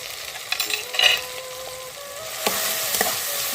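Salt, turmeric and chili powder fry in oil for a hilsa curry, giving a bright, close sizzle. The sizzle flares at the start, then scrapes and knocks of stirring follow, with no talking.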